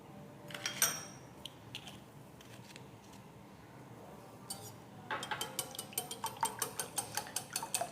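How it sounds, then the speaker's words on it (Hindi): Three eggs beaten by hand with a utensil in a bowl for fruit cake batter, a few scattered clinks followed by a quick, rhythmic run of light tapping strokes. "तीन अंडे बीट कर लें।"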